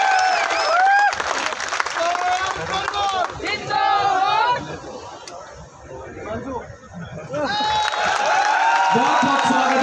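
A crowd at a political rally in Nagaur, India, claps and cheers loudly with whoops and shouting, dips briefly in the middle, then the applause and voices swell again.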